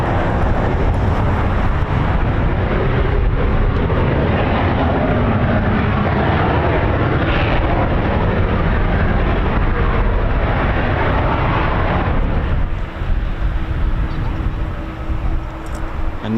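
Red Arrows jets with EJ200 engines pass overhead during a Trooping the Colour flypast, a broad, sustained roar with some wind buffeting that eases off toward the end.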